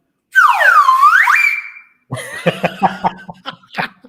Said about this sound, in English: Flag whistle, right?